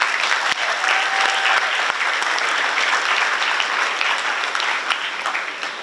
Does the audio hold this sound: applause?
yes